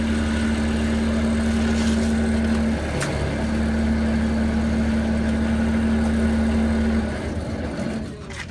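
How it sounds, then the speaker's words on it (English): A VacTron vacuum excavator hums steadily with its engine running while the pump circulates antifreeze, a steady tone that cuts out briefly and resumes before fading, with no talking. "I'll run the pump for about 3 seconds"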